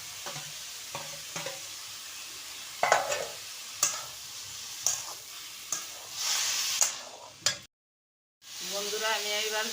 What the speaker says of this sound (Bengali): পরিমাণ মতো লবণ দিয়ে দিলাম, হলুদটাও দিয়ে দিলাম। এবার ভেজে রাখা আলুটাও দিয়ে দিলাম।